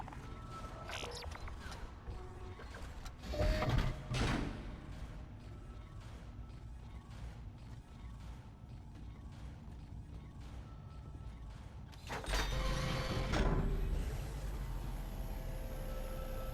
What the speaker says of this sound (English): Let's weld a new suit onto his body.